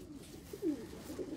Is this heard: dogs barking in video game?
no